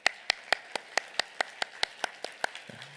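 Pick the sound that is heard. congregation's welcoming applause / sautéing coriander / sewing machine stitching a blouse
congregation's welcoming applause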